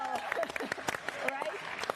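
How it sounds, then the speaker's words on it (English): People clapping in the room after NASA's DART planetary defense test, quiet scattered claps mixed in with voices talking. "I think we can clap to that"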